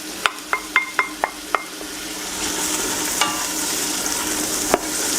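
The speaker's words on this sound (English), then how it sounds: "Give them a bit of a stir around in the hot oil." Onions fry in hot oil for lentil soup, a steady sizzle broken by a quick series of sharp clinking stirs at the start, then a louder hiss as they are moved about.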